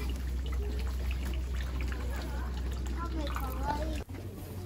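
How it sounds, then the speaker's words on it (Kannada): Water trickling and pouring from a turtle-shaped fountain at a shrine on Enoshima Island, a steady splash under continuous talk and background bustle. "ನಾವು ಇವತ್ತು ಆಮೆಯಿಂದ ನೀರು ಬರೋದು ನೋಡ್ತಾ ಇದ್ದೇವೆ ಈ ಎನೋಶಿಮಾ ಐಲ್ಯಾಂಡಲ್ಲಿ"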